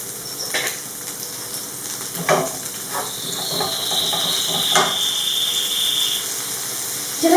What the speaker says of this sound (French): directement je rajoute mes calamars, mais il ne faut pas trop les cuire